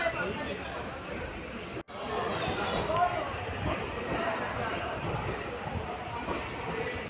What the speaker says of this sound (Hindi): तो दोस्तों अपनी ट्रेन ऑन टाइम डिपार्चर ले रही है कालका रेलवे स्टेशन से